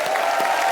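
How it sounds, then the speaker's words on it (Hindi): Studio audience applause on a Hindi comedy talk show, a brief burst of steady clapping heard close and fairly loud. "एक बार राजू भाई के लिए जोरदार तालियां।"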